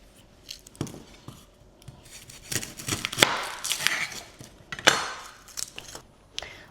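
Knife chopping garlic on a cutting board at home, a run of irregular close taps and knocks with a brief scraping sweep, fairly soft and without talk.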